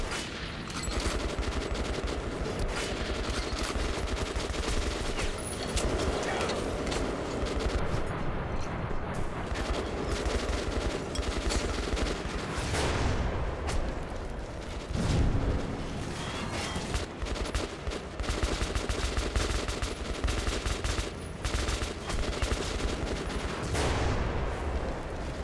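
Gunfire from a weapon in Metro: Last Light, a long continuous stretch of dense, rapid shots and echoing bursts, loud and close, with occasional heavier booms.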